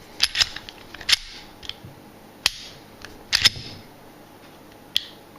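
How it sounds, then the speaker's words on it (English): Smith & Wesson M&P Shield 9mm pistol trigger being dry-fired, sharp isolated mechanical clicks heard up close, several separate snaps spaced irregularly over a quiet room hiss. "Single click, real definite, and it's hardly any pre-travel."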